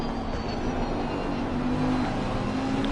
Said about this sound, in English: have a listen to this Lamborghini as he smashes it down through the gears